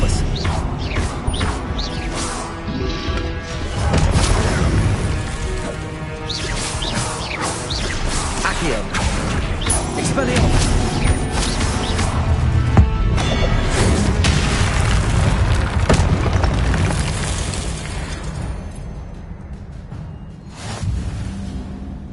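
Expelliarmus spell blasts and impacts in the video game Hogwarts Legacy, loud booming whooshes and crashes layered with game sound effects, sustained over most of the stretch before trailing off.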